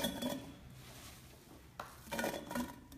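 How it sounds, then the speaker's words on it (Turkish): Glass clinks and clatters as apple pieces are dropped into a glass jar for apple cider vinegar, a few bright knocks in quick bursts with quiet gaps between. "Bir sonraki aşamamız cam kavanoza bunları yerleştirmek olacak."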